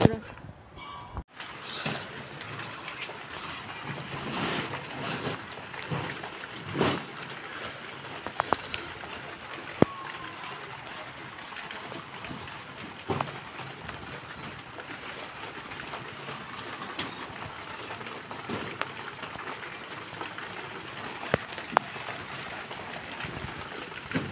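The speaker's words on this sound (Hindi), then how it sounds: "बारिश देखें अब शुरू हो चुकी है" Heavy rain falls at night outdoors, a steady hiss with scattered drips and patters, while someone talks over it.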